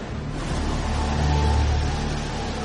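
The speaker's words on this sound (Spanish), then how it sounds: "El chorro de agua que entra en la cuenca se encuentra con la orilla opuesta. Así que el agua obligada a entrar se bifurca y crea un torbellino doble" A jet of water rushes into a basin at Niagara and splits into a double whirlpool. The roar is steady and broad, with a deep rumbling churn that swells slightly midway and is heard alone without voices.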